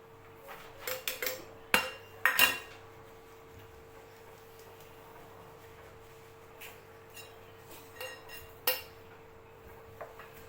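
Dry fruits are mixed into dry cake ingredients for a homemade mawa cake: sparse clinks and scrapes of a utensil against a bowl, with a few sharper knocks over a quiet background hum.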